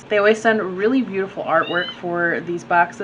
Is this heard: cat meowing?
yes